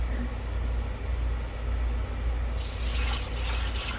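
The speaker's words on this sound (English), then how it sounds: "I'm also going to add some beef bouillon that I mixed up." Beef bouillon liquid pours into a pot of hamburger soup, a steady broadband splash that grows brighter and fuller toward the end, set against a low constant hum.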